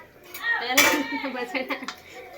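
Metal utensils clatter and bang in a home kitchen, a loud sharp crash followed by several quicker knocks and rattles, with voices talking faintly underneath.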